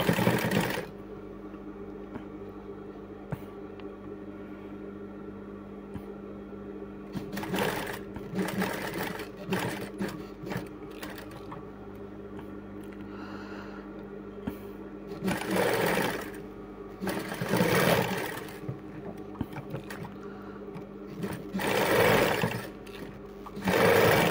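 A sewing machine stitching a tassel runs in several loud bursts of rapid mechanical whirring, separated by quieter pauses with a low steady background hum.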